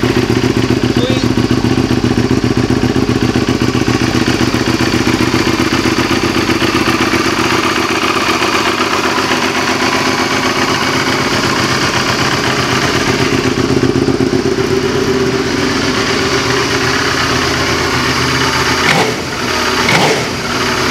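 A 2007 Suzuki SV650 race motorcycle with a new M4 exhaust idles loudly and close by in the cold, a steady, even throb that holds for the whole stretch with only a brief dip near the end.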